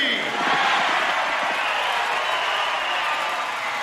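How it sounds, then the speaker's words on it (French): Boxing arena crowd awaiting an Apollo Creed versus Ivan Drago fight, a broad, steady roar of many voices with cheering, sustained and loud from start to finish. "La foule prévoit un grand combat"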